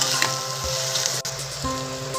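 Onion and curry leaves sizzle and fry steadily in a hot pan while egg bhurji is being made, with a continuous close crackle and a few louder spits, and no talking.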